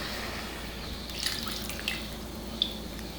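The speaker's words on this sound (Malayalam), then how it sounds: "ഇനി ഇതിലേക്ക് നമുക്ക് 1 കപ്പ് പാലും 1 കപ്പ് വെള്ളവും ചേർത്ത് കൊടുക്കാം." Milk and water poured into a pot of potato curry, a steady watery trickle with a few small drips and splashes standing out, near and moderately loud, with no talking.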